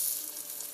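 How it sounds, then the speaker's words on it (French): Brick pastry frying in hot deep-frying oil, a constant fine crackling sizzle, close and steady, with no talking. "il ne reste plus qu'à faire cuire la brique dans de l'huile de friture"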